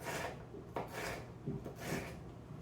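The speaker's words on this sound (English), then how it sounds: "with the tip of your knife, you can just slice thin strips." Knife tip drawn through sweet pepper on a cutting board, slicing it into thin strips: a few soft rasping cuts in a steady rhythm, close and quiet, with no talking.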